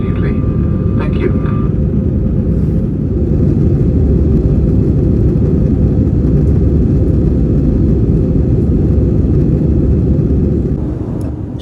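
Lufthansa Airbus A320 airliner just after takeoff, heard from inside the economy cabin as a loud, steady engine and airflow roar that holds constant throughout, with a faint tonal chime near the start.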